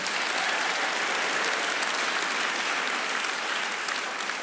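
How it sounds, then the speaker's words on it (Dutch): Steady, full applause from a Dutch television studio audience, continuous and even throughout with no voices. "Applaus voor Job,"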